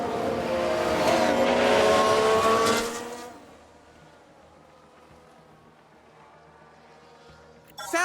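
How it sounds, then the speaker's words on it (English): A race car spins out in the F1 Manager 22 racing game: a loud engine wail with tyre squeal for about three seconds, then dropping away to a faint, low rumble. "Sounds like we've had a spin."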